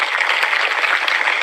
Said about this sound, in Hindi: जब हमें एक बार ताली बजाओ।